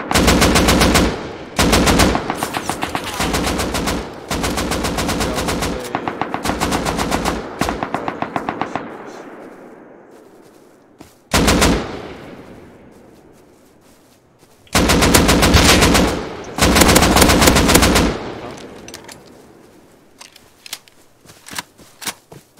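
Automatic gunfire in a video game raid, loud and close: long sustained bursts of rapid shots in several separate volleys with short pauses, one brief isolated burst near the middle, trailing off into quieter gaps.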